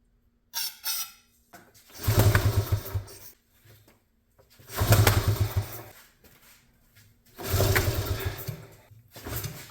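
A 1986 Honda TRX70 ATV engine cranks in three separate attempts, each a churning, squeaky mechanical whirr lasting a couple of seconds with brief pauses between, close and fairly loud, without catching.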